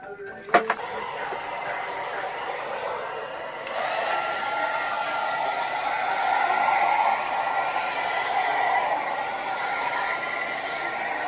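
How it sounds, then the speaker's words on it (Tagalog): A steady, loud pet blower roars continuously while drying a dog, rising slightly partway through, with a brief thump near the start. "takot siya sa ingay ng blower"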